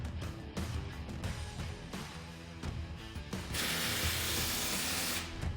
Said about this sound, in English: it's always a good idea to grab a ratchet and just double check to make sure everything feels tight by hand